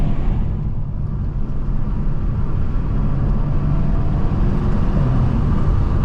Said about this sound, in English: The exhaust sounds good as well.